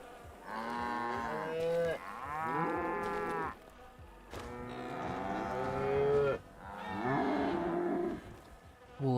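Cattle mooing in a video game: four long, drawn-out moos, close and clear, separated by brief pauses, with no speech.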